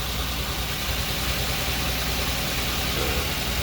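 A car engine idles roughly and shakes, and the owner reports that it has been using too much fuel. A steady, dense mechanical rumble carries on throughout with no break.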